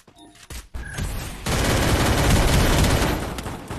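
Gunfire in the mobile battle-royale game Free Fire: a couple of sharp shots, then a dense, loud, sustained burst of rapid fire that fills the rest of the moment, with no talk over it.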